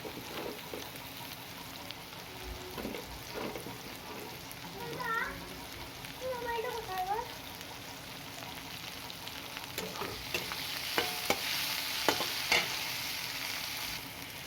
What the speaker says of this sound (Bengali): পেঁয়াজ দেওয়ার পর এটাকে আমি আবার ভালো করে নেড়ে চেড়ে একটু ভেজে নেব